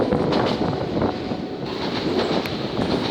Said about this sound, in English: Sounds like a train coming now.